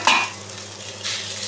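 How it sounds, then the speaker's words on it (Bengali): Boiled potatoes being mashed with a metal spatula in a pan over fried onions and green chillies, with scraping strokes and soft sizzling close up, and no voices. "এইভাবে খুন্তি দিয়ে ম্যাশ করে নেব।"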